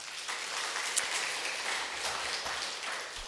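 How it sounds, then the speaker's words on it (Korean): A church congregation applauding its young adults, a dense, even patter of many hands clapping at moderate level for the whole stretch. "이렇게 서로에게 좋은 모본이 되는 우리 청년들에게 격려의 박수 한번 부탁드릴까요?"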